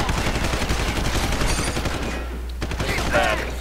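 Suppression gunfire in Deus Ex Human Revolution: dense, rapid automatic bursts overlapping in a loud, continuous fusillade with a brief gap before it resumes, and a voice talking underneath.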